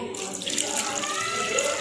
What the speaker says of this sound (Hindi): इसमें हम 1 कप तकरीबन पानी का शामिल कर देंगे